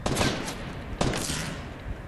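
Rapid SMG fire in Fortnite Battle Royale crackles through two close, loud bursts about a second apart, with no talk over it.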